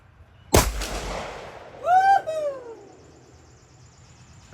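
A single sharp .458 SOCOM rifle shot cracks out loud and close at an outdoor range, followed by a decaying echo, while birds call faintly in the background.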